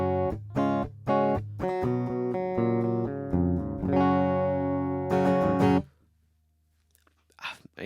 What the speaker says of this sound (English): So the guitar sounds like this going straight in.